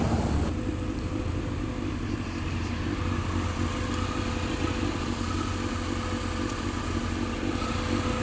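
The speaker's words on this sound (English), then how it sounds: "Does sound nice, this bike." A 2002 Yamaha Fazer 600 motorcycle engine runs steadily with a constant, rumbling drone and wind, loud and close throughout.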